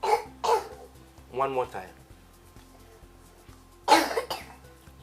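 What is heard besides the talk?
cough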